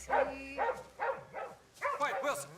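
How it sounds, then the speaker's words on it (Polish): A dog named Wilson gives a run of rhythmic barks and yips, about six bursts in quick succession, fairly close and moderately loud, with a faint low hum underneath. "Masz wspaniałego psa."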